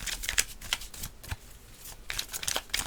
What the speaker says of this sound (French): je jette la carte